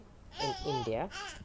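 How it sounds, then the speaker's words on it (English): A little baby babbles in the background of a bedroom in Goa, India, with short voiced coos and squeals heard close by while an adult speaks over them. "you can hear my little baby in the background"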